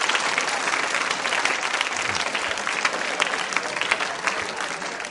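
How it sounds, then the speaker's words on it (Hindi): Sustained, dense applause from a school quiz show audience at Mahaveer Digambar Jain School, steady and fairly loud for the full stretch with no talk over it. "तालियां बजाइए उनके सम्मान में"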